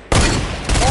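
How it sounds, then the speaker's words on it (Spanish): A hunting rifle shot in Fortnite cracks in loud and close, a sharp blast whose echo rings on, followed by a second burst of gunfire near the end. "Le metí el rifle de caza al otro"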